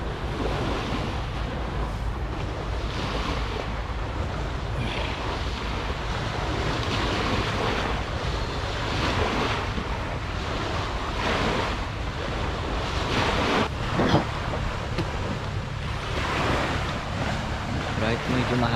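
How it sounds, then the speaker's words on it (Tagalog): Constant blustery morning wind buffeting the microphone on a ferry deck, with the wash of sea and the boat's rumble beneath; voices talk now and then. "medyo mahangin dahil maumaga, no? Hangin ng umaga."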